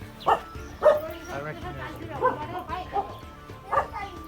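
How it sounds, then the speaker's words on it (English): Several sharp dog barks and yips ring out at intervals in the Dhaulagiri mountains of Nepal, some nearby and some farther off, with voices talking faintly underneath. "Dogs are barking"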